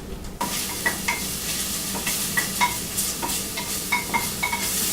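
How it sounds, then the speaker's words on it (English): Steady sizzling of minced garlic frying in hot oil, with light scraping and stirring taps from a utensil scattered throughout. "Our oil's nice and hot back here with our garlic. So it's sizzling some."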